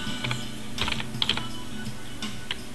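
Someone types on a computer keyboard, with scattered clicks and short bursts of keystrokes close to the microphone over a quiet room hum.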